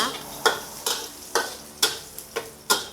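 Chopped garlic frying in a hot pan as it is stirred, with a close, sharp scrape-and-sizzle burst repeating roughly every half second over a quiet background.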